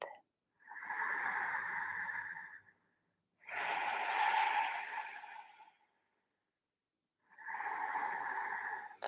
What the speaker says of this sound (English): Five more deep breaths in and out, closing the eyes